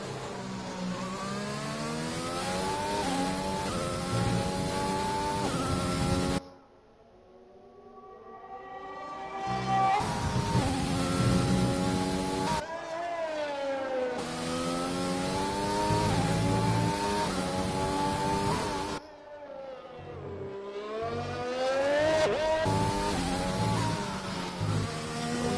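A race car in a racing video game esports event at the Hungary circuit screams onboard, revving hard through upshifts, with two sharp drops on braking before it accelerates again, loud and close.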